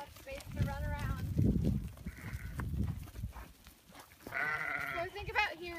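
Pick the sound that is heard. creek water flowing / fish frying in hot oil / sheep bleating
sheep bleating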